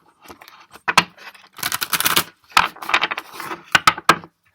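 Several bursts of crisp riffling and slapping as tarot cards are shuffled, close by, in uneven runs with short pauses between.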